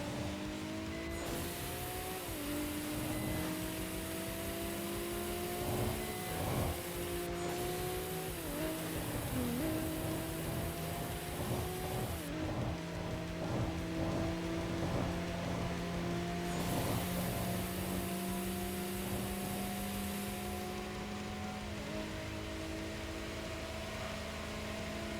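A racing car engine in the video game Tokyo Xtreme Racer revs hard on nitrous boost, pitch climbing in long sweeps with brief drops at gear changes, loud and continuous with a steady hiss over it.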